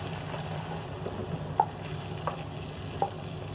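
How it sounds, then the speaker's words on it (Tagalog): Pork liver sizzles steadily in a pan of oil while being stirred, with a few sharp scraping taps of the spoon standing out over the constant close frying hiss. "kailangan alaga din sa halo, no? Maganda kasi pagkapantay-pantay yung pagkakaluto ng ating atay."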